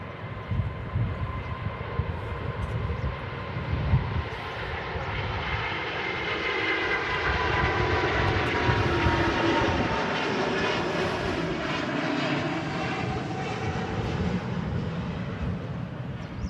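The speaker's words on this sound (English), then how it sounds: "Oh, the bass from the A350 there, gears up already." An Airbus A350 climbs out from Manchester Airport with its gear already up, its engines giving a deep, bass-heavy roar that swells and holds steady for the whole stretch, heard from the ground at a distance.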